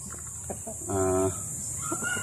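Japanese Shamo chickens of about six months old cluck in a short burst, with a louder drawn-out call in the middle, amid faint background noise.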